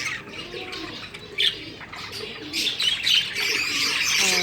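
A female parrot settles onto her eggs in a clay breeding pot, with bright, repeated chirps and cooing calls near at hand that grow denser and louder toward the end.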